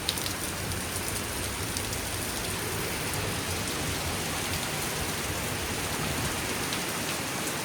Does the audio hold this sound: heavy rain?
yes